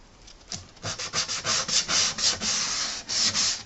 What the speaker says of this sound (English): I like using sanding blocks because you can kind of let the foam conform to your piece.